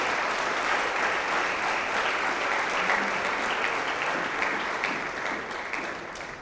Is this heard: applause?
yes